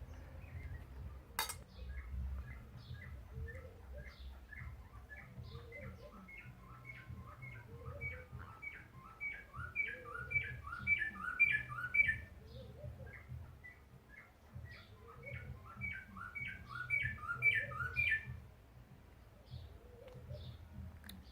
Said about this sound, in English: Love the sounds of birds in the afternoon.